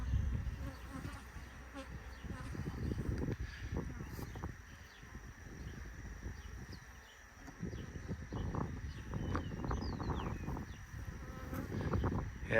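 Honeybees buzz around an opened beehive during a split check, a steady droning hum with individual bees passing close, constant throughout over outdoor background.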